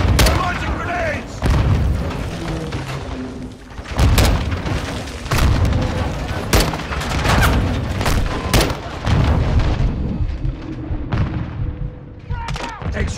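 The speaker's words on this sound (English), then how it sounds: "We're launching grenades!" Grenade explosions and gunfire in the Call of Duty: Modern Warfare II video game, loud booms and bursts of shots in rapid succession, close and heavy, with shouting voices over the combat.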